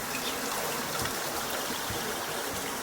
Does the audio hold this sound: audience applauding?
no